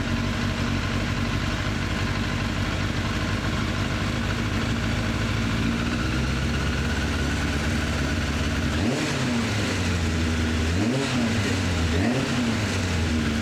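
A Suzuki Bandit 600 motorcycle engine runs steadily at close range during carburetor synchronization, with a dense idle hum that rises and falls in several short revs toward the end.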